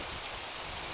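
Steady hiss of rain falling in Minecraft with the Pixelmon mod, a dense even wash of drops with no breaks, fairly quiet and unaccompanied by talk.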